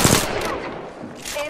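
A rapid machine-gun burst from Apex Legends gameplay opens loud and close, followed by a short stretch of lingering game noise.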